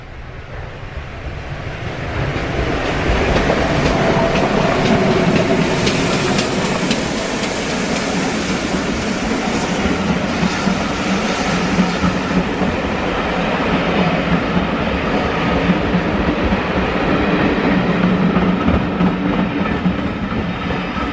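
A West Somerset Railway steam train passes along a line near Somerset country lanes, a loud sustained rumble and rush that builds over the first few seconds and then holds steady, with no voices.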